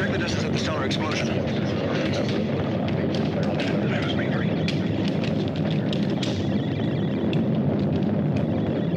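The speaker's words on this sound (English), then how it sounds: "Mila, check the distance of the stellar explosion." Stellar explosion effect from the 1977 sci-fi film Cosmos: War of the Planets, a continuous loud roaring rumble with crackling bursts throughout, layered under dialogue.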